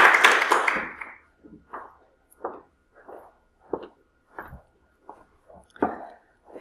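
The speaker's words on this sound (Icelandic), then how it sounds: "Svo bara gefa henni gott klapp." A short round of applause for a speaker at a university presentation on a museum studies MA project opens with a brief burst of clapping, and sparse scattered claps trail off in a quiet room.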